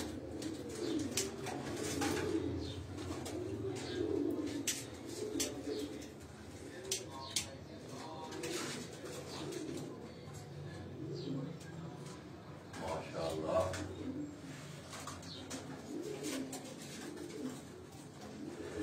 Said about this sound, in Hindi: ये मलक आबद भाई के सारे उनके ये परवाजी कबूतरों के ये केजेस हैं